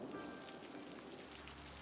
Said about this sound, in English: And it's raining. How lovely.